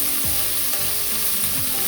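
Carrot and onion sizzle steadily in hot oil in a pot, a continuous dense frying hiss with faint scrapes from constant stirring, close and moderately loud throughout.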